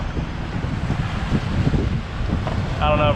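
A catamaran sailboat motor-sails in the Bahamas with both engines at 2,400 RPM, a steady loud engine drone and rushing wind across the microphone, with a brief voice near the end.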